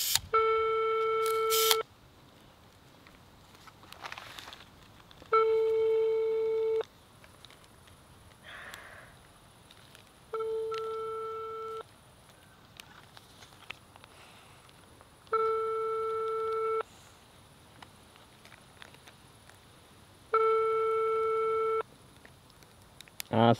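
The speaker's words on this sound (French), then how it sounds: "Ah, c'est la 5e sonnerie déjà. Ça ne répond pas." A phone ringback tone repeats five times, each long tone separated by several seconds of quiet, with faint rustling and a brief sniff between rings; nobody answers.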